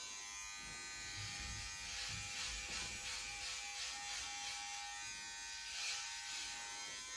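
An electric hair clipper buzzes steadily and close up while cutting a client's hair during a haircut, a continuous whining hum that shifts slightly as it passes over the head.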